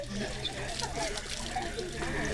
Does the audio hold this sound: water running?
yes